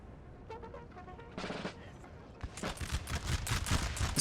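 Musket volleys crackle in a Napoleonic Total War 3 multiplayer battle, with scattered shots giving way to a dense, continuous fusillade of rapid overlapping gunfire that grows louder toward the end.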